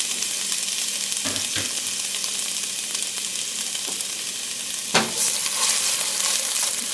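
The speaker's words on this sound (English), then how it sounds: "I'm going to throw some onion in it. Let that saute for a little bit." Onion sautés in hot oil in a pot for gluten-free pasta fagioli, giving a steady moderate sizzle broken by a few spoon knocks and a louder clatter near the end.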